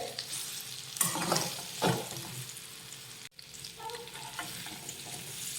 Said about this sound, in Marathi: आता यामध्ये घालूयात आपण कट करून ठेवलेल्या वड्या मिक्स करून घेऊयात